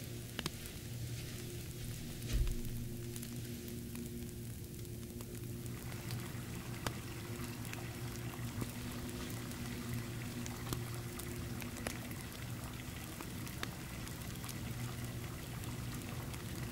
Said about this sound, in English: I'm gonna go ahead and start that bath for you